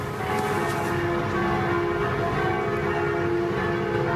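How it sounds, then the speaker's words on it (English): Church bells in Paris ring continuously in a dense, reverberant peal after an election, steady and fairly loud with a busy crowd-like background underneath. "there were also celebrations abroad, places like Paris, where the actual church bells were ringing"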